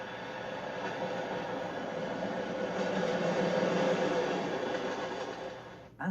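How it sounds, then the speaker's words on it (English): A Swiss Glacier Express train winds through a network of tight bends and tunnels, giving a steady, continuous rumble of wheels and carriages that swells slightly and then fades near the end. "The train appears to be off on a spree as it negotiates the spaghetti-like system of bends and tunnels."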